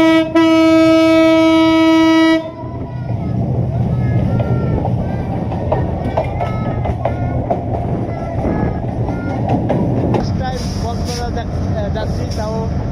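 A moving train heard from inside while riding: a loud horn blast opens, then a steady rumble and rattle of the carriage rolls on, with people talking nearby over the noise.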